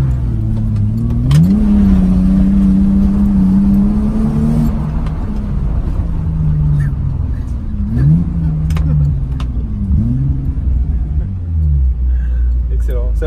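A car drifts through Paris streets on 255 rear tires, its loud engine revving in repeated rising and falling sweeps over a constant low rumble, with voices inside the car.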